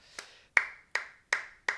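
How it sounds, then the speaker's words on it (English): Five sharp hand claps from a single person in a quick, evenly spaced burst, close and crisp, each one ringing briefly in a quiet room. "a real quick round of applause"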